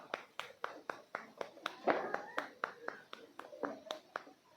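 A classroom claps for a presenting group in a steady, rhythmic pattern of sharp, evenly spaced beats, fairly faint and roomy, with some voices mixed in.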